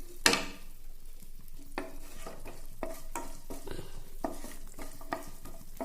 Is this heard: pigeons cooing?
no